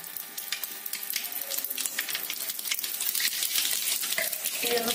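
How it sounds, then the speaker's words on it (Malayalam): Mustard seeds and fenugreek spluttering in hot oil in a heated pan: a dense, continuous crackle and sizzle of popping seeds close to the mic, growing slightly busier toward the end. "ചട്ടി ചൂടായിട്ടുണ്ട്, അപ്പൊ നമുക്ക് കടുകിടാം."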